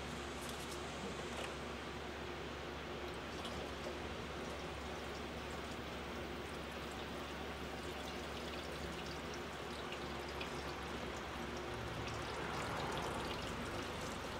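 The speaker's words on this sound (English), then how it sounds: "I need to fill up my reservoir." Fluid pours into the windshield washer reservoir of a 2004 Chevrolet Silverado, a soft steady trickling stream that goes on without a break, faint and close, with no voices.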